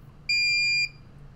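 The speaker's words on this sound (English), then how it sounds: "that beep is crazy loud" A Prusa i3 MK3S+ 3D printer emits one loud, piercing electronic beep lasting about half a second, then falls silent.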